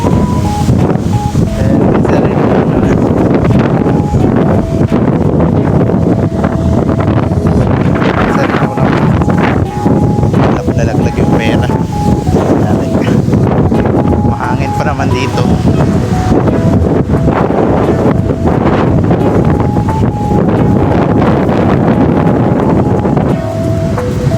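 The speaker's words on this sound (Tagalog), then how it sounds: "bagyo lakas lang talaga ng hangin" Strong typhoon wind roars and buffets the microphone continuously, a loud, steady rushing with faint voices buried underneath.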